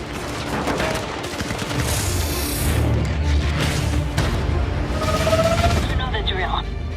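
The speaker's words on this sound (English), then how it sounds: "I got gunfire." Loud, sustained bursts of rapid video-game gunfire during a breach, rattling on continuously, with booming impacts mixed in.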